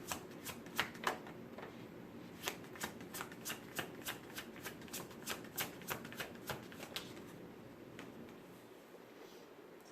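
Tarot cards riffled and shuffled by hand, a rapid run of crisp snapping flutters for several seconds that then tapers off, close and fairly quiet, with no talking.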